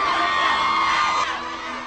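A crowd of fans screams and cheers at a film star's appearance, a dense, loud wall of high-pitched shrieks and whoops that is steady, then eases slightly toward the end.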